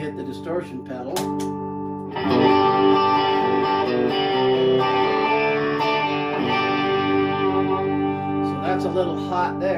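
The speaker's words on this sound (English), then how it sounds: "Now when I hit the distortion pedal" An electric guitar played through a Fender Pugilist distortion pedal: after a few quiet plucked notes, a loud, thick distorted chord rings out and sustains for several seconds before fading at the end.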